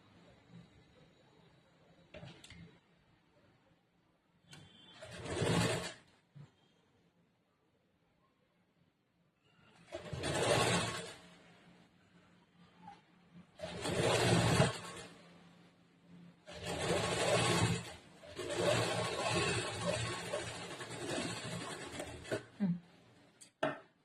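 A sewing machine stitches cloth in several separate bursts of rapid mechanical whirring, each lasting one to three seconds with quiet pauses between them, heard close by.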